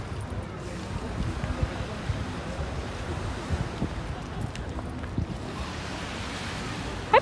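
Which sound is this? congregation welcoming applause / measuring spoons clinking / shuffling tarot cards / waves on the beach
waves on the beach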